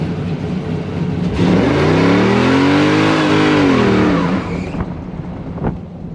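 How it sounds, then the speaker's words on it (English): A 1996 Impala SS with a 6.0 V8, BTR Stage 4 cam and 3800 stall converter makes a full-throttle takeoff. The loud, close engine roar climbs hard for about three seconds, then eases off, with no talking. "I'm just gonna do a all gas no brake takeoff, and let's see what it does."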